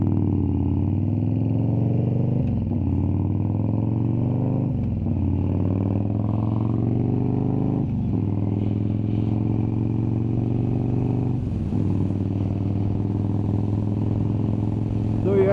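A Harley-Davidson Dyna Wide Glide FXDWG engine droning steadily while riding, a loud, constant low rumble with brief dips and rises as gears shift at intervals.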